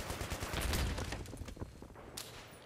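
A PKP light machine gun fires in Battlefield 3, a loud rapid burst of shots up close that trails off into quieter scattered reports.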